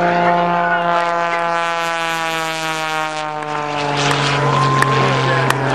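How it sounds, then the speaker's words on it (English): An aerobatic airplane at an airshow in Janesville, Wisconsin, pulls into a vertical climb with a loud, sustained droning engine tone whose pitch shifts gently, with faint crowd-area noise beneath. "He pops that airplane right up into the vertical."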